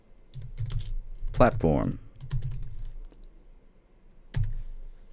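Someone types a command on a computer keyboard in short bursts of quick, close key clicks while a person speaks over and between them.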